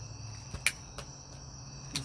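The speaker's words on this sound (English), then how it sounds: "There's lots of crickets" Crickets chirp outdoors on a summer evening at a homestead, a faint steady high trill with a few sharper chirps, soft and distant, with no voices.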